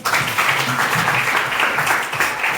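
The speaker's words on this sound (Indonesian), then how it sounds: "Beri tepuk tangan untuk Patrick" A room full of people applauds Patrick at a Bank Indonesia teacher-ambassador event, with dense, steady clapping filling the space and a few voices underneath.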